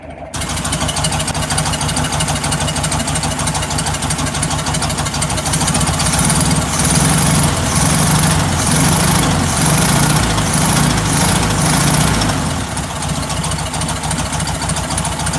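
A 1967 VW Beetle air-cooled engine idles steadily and loudly up close after a cold revving, a continuous rough, throbbing drone that holds level throughout with no pauses.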